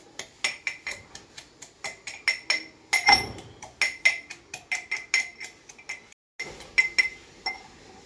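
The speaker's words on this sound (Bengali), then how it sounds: "এইভাবে এবারে এটাকে থেতো করব।" Garlic cloves crushed by hand with repeated sharp, ringing pounding strikes in an even rhythm, about a dozen or more close, loud hits with a brief pause near the end.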